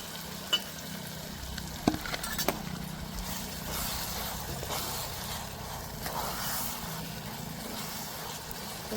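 Boiled green chickpeas sizzle steadily in a hot pan while a spoon stirs them, with a continuous frying hiss and occasional scraping clinks up close.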